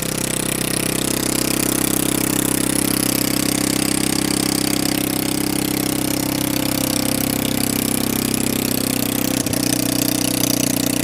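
A Honda Ruckus scooter engine idles steadily close by with a low, even hum and faint rattle, joined by one brief click near the end.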